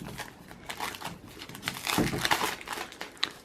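Thin plastic film peeled and crinkled off a new Oppo F1s phone box, a close run of crackling rustles that builds to a denser burst midway before trailing off.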